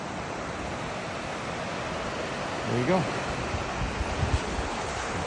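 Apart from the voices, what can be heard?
ocean surf at Kaanapali Beach, Hawaii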